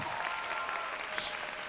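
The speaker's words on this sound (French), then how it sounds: "On l'applaudit encore une fois." Applause from an audience at a cosplay contest, a steady dense patter of clapping that fills the short stretch at moderate level with no speech over it.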